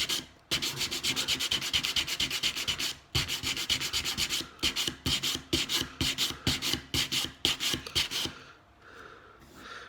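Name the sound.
sanding wood for shelves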